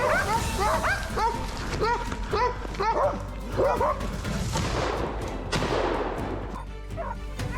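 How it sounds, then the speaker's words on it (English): Hunting dogs bark repeatedly in a forest during a wild boar hunt, a pack of several sharp, echoing barks and yips at close to middle distance, steady and overlapping throughout. "Hearing the urge of barking echo through the trees"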